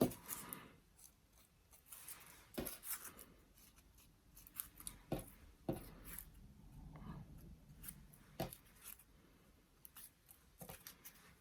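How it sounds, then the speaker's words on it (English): Scissors snip and scrape through paper carnation petals in close, quiet, irregular bursts with soft rustling of the paper between cuts. "The more you use the back of your scissors on your petals, the more you break down that paper"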